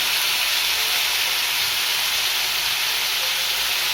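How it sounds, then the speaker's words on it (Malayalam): Onions sautéing in a pan with turmeric powder, a loud, dense and steady hiss of sizzling oil that holds evenly throughout with no talking. "നമ്മൾ സവാള വഴറ്റി കൊടുക്കുകയാണ്"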